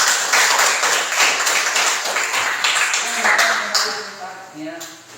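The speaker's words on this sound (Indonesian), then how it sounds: "sekali lagi kita berikan aplaus tepuk tangan untuk hasil presentasi dari kelompok" Classroom applause for a group presentation, with scattered hand clapping mixed with speech and chatter; the clapping fades toward the end while voices continue.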